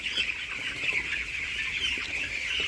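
Young chicks peep in a continuous, high chorus on a poultry farm raised for about sixteen days, a steady dense chirping with no single bird standing out.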